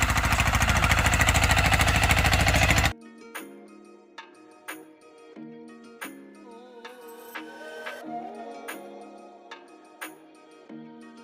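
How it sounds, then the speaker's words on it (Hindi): A tractor runs in a hill field in Garhwal, its loud, rapidly pulsing engine close for about three seconds before cutting off abruptly, followed by quiet scattered knocks and clicks. "ये देखो ट्रैक्टर की आवाज़ सुनो अब कैसी आवाज़ आ रही है"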